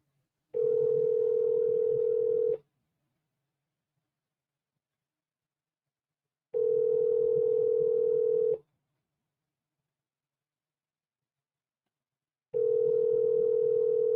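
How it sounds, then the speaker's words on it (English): An outgoing telephone call rings unanswered: three identical ring tones, each about two seconds, separated by roughly four seconds of silence, clear and close. "Now he's not answering my phone call."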